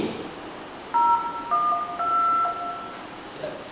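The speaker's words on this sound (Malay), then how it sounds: "dan setiap butang atau setiap nombor yang kita dial pasti ada bunyi yang tersendiri." Smartphone keypad dialing tones, a few distinct DTMF beeps of differing pitch sounding one after another, clear and moderately loud over faint background hiss, with no talk.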